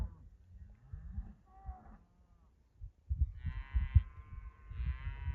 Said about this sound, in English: There's the cattle bawling about.